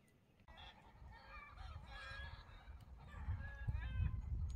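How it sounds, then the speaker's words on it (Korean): Chickens cluck and squawk noisily at a native fishing pond, a cluster of honking, clucking calls rising in loudness over faint background rumble. "아, 그놈의 닭들 더럽게 시끄럽네"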